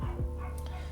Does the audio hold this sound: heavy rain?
no